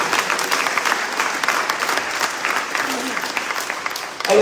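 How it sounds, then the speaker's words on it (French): A crowd applauds warmly for the Arsenal women's team, champions being received by the mayor of Le Robert, with dense, sustained clapping throughout and a brief voice at the very end. "il faut vraiment applaudir très fort ces filles-là"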